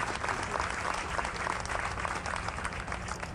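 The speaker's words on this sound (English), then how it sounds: "Please give a round of applause to the West All-Star team." A crowd at a Louisiana high school baseball all-star game applauds the West All-Star team with steady, even clapping heard from a distance throughout.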